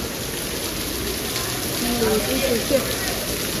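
Heavy rain pours down in a dense, steady roar, with voices talking over it.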